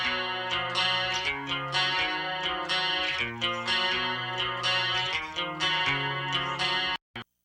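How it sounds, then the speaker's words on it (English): Layered electric guitars recreating a classic rock song, brightened with outboard EQ, give a crisp, distorted, chorused chord pattern that plays steadily and loudly before stopping sharply near the end. "I used an outboard EQ to kind of just brighten things up a little bit"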